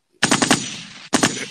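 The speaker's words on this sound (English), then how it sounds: "Gunshot." Gunfire sound effect in two loud, close bursts of rapid automatic shots. Three quick cracks are followed by a short ringing tail, and after a brief gap two more shots fire.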